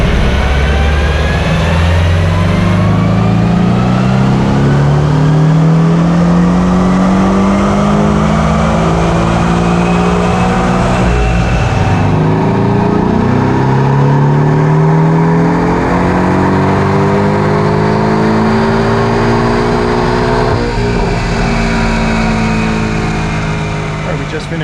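A Porsche 718 Cayman 2.0T turbo engine pulls hard in third gear on a dyno, loud and continuous, with rising revving sweeps from about 2,500 to 7,200 rpm repeated across the runs.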